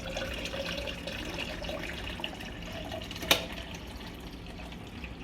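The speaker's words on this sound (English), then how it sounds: "We're gonna add it to about right here with coconut water." Coconut water pouring into a watermelon drink, a soft continuous liquid trickle throughout with one small clink partway through, no talk.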